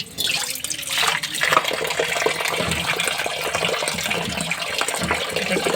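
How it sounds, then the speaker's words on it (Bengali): Raw meat is rinsed under running water, a steady close rushing and splashing that fills the whole stretch, with no talking. "এখন আমি মাংসগুলো আরও ধুয়ে নিব,"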